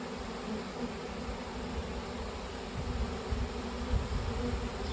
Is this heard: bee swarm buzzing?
yes